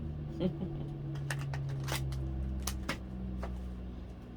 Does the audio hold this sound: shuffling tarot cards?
yes